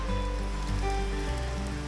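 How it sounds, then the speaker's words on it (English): Heavy rain pours steadily through the North Woods near an old lake resort, a dense, continuous hiss of drops on leaves and ground with a low rumble underneath, lasting the whole time with no talk. "Now it's raining like crazy."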